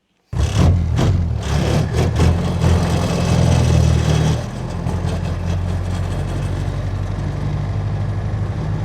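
A diesel-converted Jeep Wrangler YJ engine starts abruptly, rumbling loudly with a rough low drone, then settles into a steady, slightly quieter running note on a country cruise.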